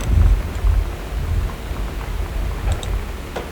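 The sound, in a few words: thunder and rain in video game Gone Home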